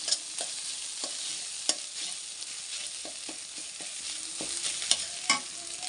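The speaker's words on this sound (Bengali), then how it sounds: "এখন এর সাথে মিক্স করে ভালোভাবে ডিমটার সাথে কষিয়ে নেব" A mixture is stir-fried with egg in a pan for a tarka recipe, giving a steady close sizzle broken by frequent scraping clicks of the spatula, with no talking.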